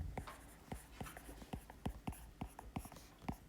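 Chalk or marker strokes on a board during a Korean math lesson on factoring, a quick run of sharp, close taps and short scratches in an uneven rhythm, with a soft voice faintly present.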